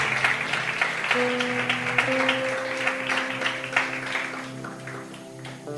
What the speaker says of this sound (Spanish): Dele un aplauso al Creador fuerte.